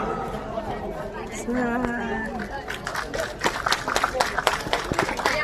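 Audience clapping rises in a hall during a Naman folk theatre show in Dadar, with scattered claps becoming more frequent after the first half. Crowd chatter and voices run beneath it.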